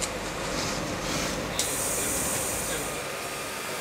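A Dyson DC41 vacuum cleaner sucks dust from a crevice in a hard floor. It makes a loud, steady airy roar that fills the clip, with one brief sharper hiss partway through.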